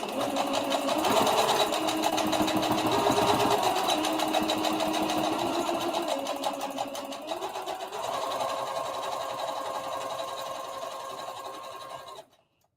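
A sewing machine back-stitches over the pockets of a circle dress, its motor whirring in a steady, close, loud run that shifts pitch twice as the stitching reverses, then stops abruptly at the end.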